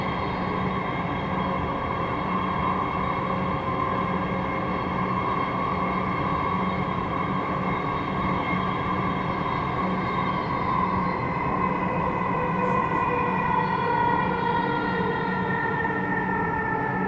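A Dhaka metro rail train runs at speed between stations toward Agargaon. It gives a steady, loud interior hum with a tonal whine that shifts slightly in pitch, and no talk.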